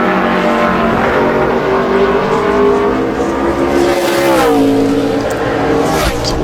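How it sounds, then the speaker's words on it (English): A NASCAR Sprint Cup car runs a qualifying lap at New Hampshire Motor Speedway, its loud engine droning close and continuous with a rising, falling pitch as it eases through a corner and climbs back up under throttle. "See if Peter lets him go ahead and run another lap"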